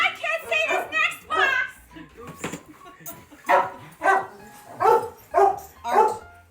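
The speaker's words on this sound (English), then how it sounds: "The dogs are going crazy." Several dogs bark in an excited chorus, close and loud in repeated bursts, while children and adults talk and call out over them during the opening of a large delivery haul from Amazon and Walmart.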